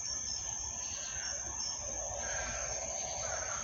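Crickets and cicadas chirp outdoors at night in a steady, dense high-pitched drone that goes on throughout, with no talking over it.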